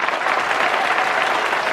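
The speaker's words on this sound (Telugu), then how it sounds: "చప్పట్లు." A short, steady burst of applause, dense clapping from a group that holds at an even level for under two seconds with no talk over it.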